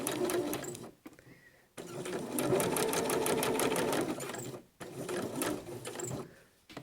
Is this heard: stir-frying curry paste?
no